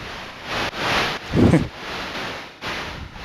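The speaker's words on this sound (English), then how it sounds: "This sounds like hi-hats to me." Bursts of synthetic noise from an Erica Synths Perkons drum machine pulse in an uneven rhythm, hissy and washy like electronic hi-hats, with a lower thump in the middle.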